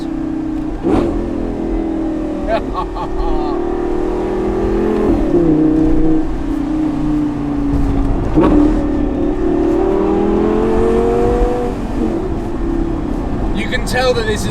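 A four-wheel-drive Lamborghini supercar engine revs and downshifts, its loud droning note rising and falling over several gear changes with quick throttle blips, and voices talk over the engine.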